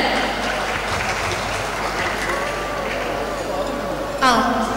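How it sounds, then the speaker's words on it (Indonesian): An audience claps steadily through a school ceremony for new students at SMA Negeri 6 Palembang, following an Arabic-language drama performance. The applause is broad and sustained, with a host's voice carrying over it and a brief louder burst near the end. "Sekali lagi tepuk tangannya dong untuk drama bahasa Arab SMA Negeri 6 Palembang."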